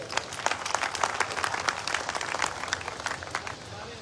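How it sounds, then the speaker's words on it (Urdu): Audience at a community gathering applauds, a dense crowd of claps running steadily and fading slightly at the end, with faint voices underneath. "تو ایک بار ان کی سب کے لیے تالیاں ہو جائیں."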